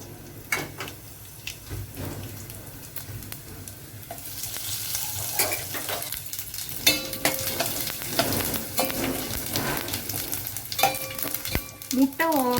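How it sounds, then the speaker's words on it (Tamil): Tempering spices sizzle and fry in hot oil in a pan for an egg drop curry, a steady crackling hiss that swells and spits, with occasional clinks of a stirring utensil against the pan, close and without talk. "சட்டி வச்சுட்டேன், எண்ணெய் விட்டுருக்கேன், தாளிக்கிறது போடுறேன்"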